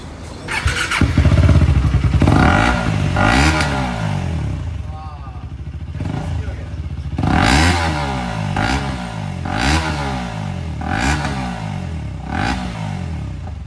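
A KTM motorcycle runs with its exhaust removed, blasting out loud, raw revs that surge and fall in repeated bursts between rougher idling stretches, close and dominant.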